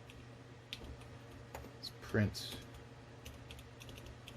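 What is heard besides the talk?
typing on cyberdeck computer keyboard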